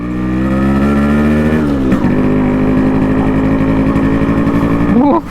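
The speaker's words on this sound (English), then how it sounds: "Wow, that exhaust note." A Yamaha RX 100 two-stroke motorcycle engine idles loudly up close with a buzzy, crackling exhaust, then blips the throttle in a quick rising rev near the end.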